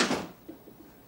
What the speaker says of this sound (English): And walks out the door.